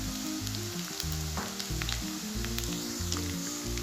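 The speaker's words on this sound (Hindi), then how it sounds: "अब इसमें मैं गोश्त ऐड कर देती हूँ।" Mutton added to golden, lightly browned onions frying in a pan for aloo gosht: a steady close sizzle with crackling pops and occasional stirring scrapes, continuing for several seconds.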